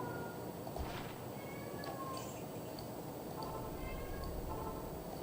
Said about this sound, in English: God, my cat is driving me nuts.